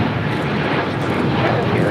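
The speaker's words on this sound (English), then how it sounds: "This is KLM 602 taking off to Amsterdam on a 787-10 Dreamliner." A KLM Boeing 787-10 Dreamliner taking off at LAX, a loud, steady jet engine roar filling the whole stretch, with voices talking faintly underneath.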